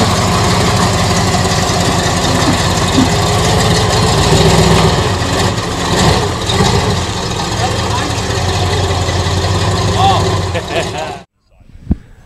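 A 1946 Willys Jeep engine idles loudly and close by with a steady, lumpy low rumble and knocking vibration, voices talking over it, before it abruptly cuts off into near silence.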